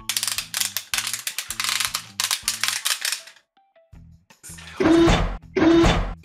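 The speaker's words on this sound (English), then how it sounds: "It's the very simple basic articulation, yeah, but at least it all has nice ratchets, so it sounds good to pose." A transforming toy robot is being posed, and its ratcheted joints give off rapid runs of sharp plastic clicks in bursts. A few louder, heavier clicks come near the end, close and clear, with no voices.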